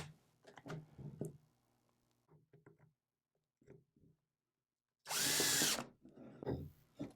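A power drill gives a brief, loud whirr while tightening a screw on a homemade cup turner, set among quiet clicks and handling knocks of the workpiece nearby.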